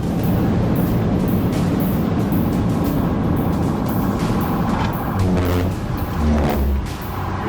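Vehicles roar steadily as a car drives the wrong way into oncoming interstate traffic during a police chase, with loud continuous road and engine noise and heavier truck-like rumbles swelling near the end.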